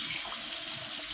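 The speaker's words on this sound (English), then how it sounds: "I'm gonna run the hot water." Hot water gushing steadily from a tap into a sink, a loud, close, continuous hiss with no breaks.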